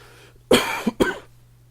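Two sharp coughs close together, the second slightly shorter, loud and near with quiet around them.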